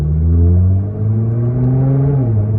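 A 2016 Nissan GT-R engine revs steadily with a smooth, loud rising drone, the pitch dipping briefly partway through as the blow-off valves vent before climbing again.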